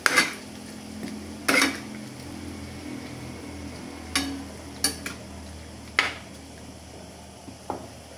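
Spoon stirring ground pepper into chicken gizzards and liver in a metal pan, giving sparse, light clinks and scrapes against the pan over a soft background hiss, with no voices.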